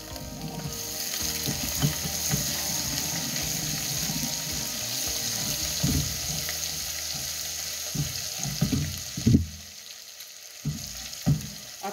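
Chopped onion turning golden fries with ginger in a pan for aloo bhujia, a steady sizzle with stirring scrapes and clinks of a utensil toward the end.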